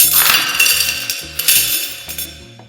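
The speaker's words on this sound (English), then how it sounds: "I really recorded money going down the drain." Coins clink and rattle as they tumble down a drain, a quick run of bright metallic chinks and jingles close up, with no talking.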